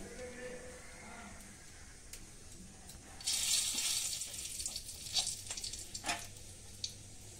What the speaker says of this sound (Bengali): আমি এবার ফোড়নটা দেবো।